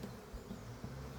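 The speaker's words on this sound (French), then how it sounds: "je vous brasse dans tous les sens les petites abeilles là" Honeybees buzzing while being shaken about during swarm handling, a short faint continuous hum with slight wavering and no voices.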